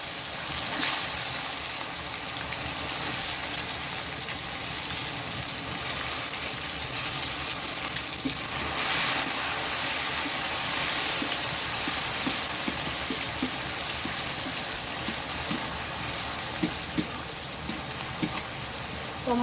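Chopped tomatoes fry in hot oil with black cumin seed and ground chili, a steady dense sizzle and crackle running throughout with occasional stirring scrapes, close and fairly loud, no voices.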